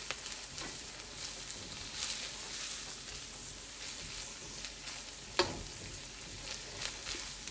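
Garlic and ginger fry steadily in a pan for fried rice, a continuous close sizzle with a few louder pops and stirring scrapes, no voices.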